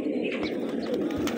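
Fighting pigeons coo close by in soft, low, repeated throaty calls, with a little faint background noise.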